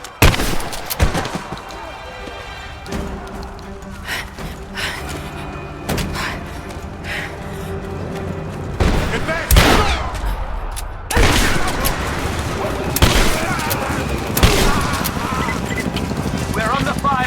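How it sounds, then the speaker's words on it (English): Gunfire in the video game Rise of the Tomb Raider at the edge of a village: repeated sharp shots and heavy booms burst out irregularly over a dense, busy mix of game sounds and voices. "We're under fire at the edge of the village."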